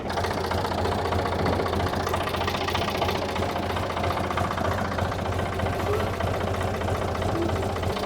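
A 1950s-era barn project engine idles steadily while warming up, a continuous close, mid-pitched rumble with a faint knocking pulse and no talk over it.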